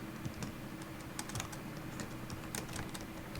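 Quick, irregular clicks of a computer keyboard while code is typed, close and quiet, with short pauses between bursts of keystrokes.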